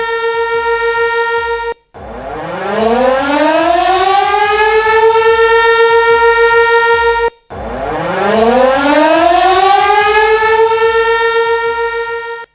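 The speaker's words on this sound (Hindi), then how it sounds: "पाकिस्तान में वॉर सायरन बज रहे हैं" A loud civil defense war siren in Pakistan wails in long cycles, each rising in pitch and holding a steady howl, briefly cutting out before winding up again.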